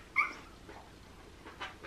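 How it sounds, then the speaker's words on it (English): A newborn cocker spaniel puppy barking in its sleep: one faint, high, squeaky yip, followed by softer whimpery sounds a moment later, heard up close in a quiet room. "And Prickle is barking in his sleep."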